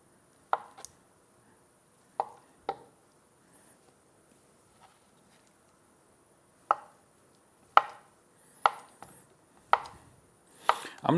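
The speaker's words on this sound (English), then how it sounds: "the next thing we'll need to do is just to cut up the feta" Feta cheese being cut with a knife on a board: sparse, distinct knife thuds, close and crisp, spaced irregularly with quiet gaps, bunching closer together toward the end.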